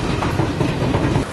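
A train rolls past close by at a railway level crossing, a loud continuous rumble with rhythmic wheel clatter on the tracks filling the whole short stretch, with no voices.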